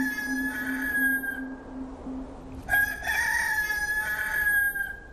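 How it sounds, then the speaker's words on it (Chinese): A rooster crows once partway through, a loud drawn-out call that rises out of a steady background hum with no voices. "鸡鸣声。"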